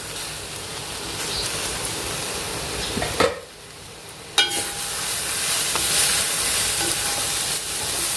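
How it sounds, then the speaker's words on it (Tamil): Broad beans fry in a pan while being stirred, a steady loud sizzle broken by a few spatula scrapes and one brief lull midway, with no voices. "இப்போ நடுவில் கிளறி விடலாம்."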